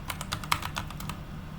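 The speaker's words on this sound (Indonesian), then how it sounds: "Kita ketik dulu ya di sini." Quick keystrokes on a computer keyboard while a database command is entered, a short burst of about a dozen light clicks at a steady pace, close and fairly quiet, with no talking.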